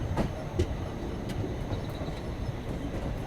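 An Indian passenger express train on the Mangaluru to Bengaluru line keeps up a steady rumble on its rails, with faint wheel clatter and a few short rhythmic knocks, close by and with no voices.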